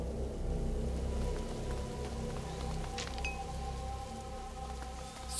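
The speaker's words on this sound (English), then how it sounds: "Lucas, Hugo, stay out of the rain" Steady rain falls in a dark medieval setting in the video game A Plague Tale: Innocence, a constant hiss running through the whole stretch with a low ambient drone and a faint high chirp partway through.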